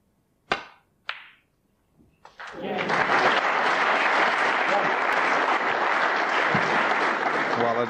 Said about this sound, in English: A deserved round of applause.